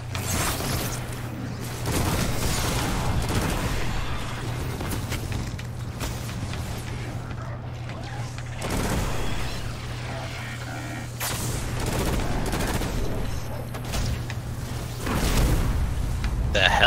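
Gunfire in the Destiny 1 video game, repeated booming shots in bursts with a steady low hum beneath, while people talk over the action.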